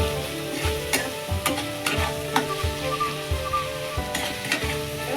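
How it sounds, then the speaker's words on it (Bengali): Ground cumin, coriander and salt are stirred in a sizzling frying pan for a Bengali fish curry, with a steady oily sizzle and repeated scraping strokes of the spatula about once a second, close and alone without talk. "নেড়ে দেবো, একটু নাড়বো"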